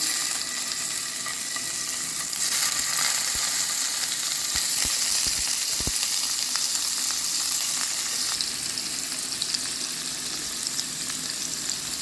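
Steady, loud sizzling of paneer frying in a hot pan for kadai paneer, a continuous crackling hiss with a few faint clinks.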